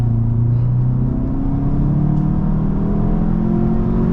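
A 2025 VW Jetta GLI pulls hard from a roll on the freeway, its engine drone rising steadily in pitch with a loud, continuous rumble and whir heard from inside the car.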